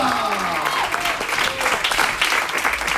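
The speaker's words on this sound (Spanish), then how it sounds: "Fuerte ese aplauso al Señor en esta hora." A church congregation applauds loudly and continuously, dense clapping from a crowd close by, with voices calling out faintly underneath.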